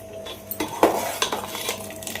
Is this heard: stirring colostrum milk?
yes